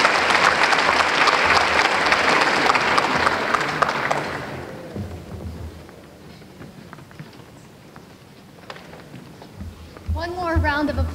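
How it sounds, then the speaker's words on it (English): An audience applauds loudly for Congressman Huffman at an international conference. The clapping fades after a few seconds into room noise, and a voice speaks near the end. "Applause, please, for our wonderful congressman who's representing us"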